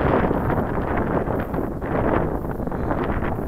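Strong wind buffets a microphone outdoors at an RC model airfield, a steady loud rumbling roar with gusty swells and no voices.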